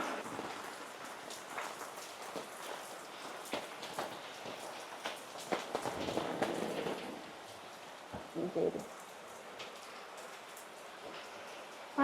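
Steady rain falls outside a home, a soft continuous patter with faint drips and a couple of louder bursts, heard without talk.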